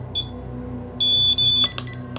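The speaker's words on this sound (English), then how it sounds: "The REM pod is on." A REM pod ghost-hunting device sounds a short high beep, then a longer sustained electronic tone and a few quick chirps, loud and close in an otherwise quiet room.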